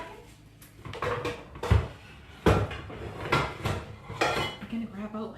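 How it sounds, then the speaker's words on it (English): A metal frying pan is pulled out of a kitchen cupboard while cooking, with several clanking knocks of cookware against cookware and a cupboard door, close and fairly loud, and brief talk mixed in. "I'm gonna grab out a pan."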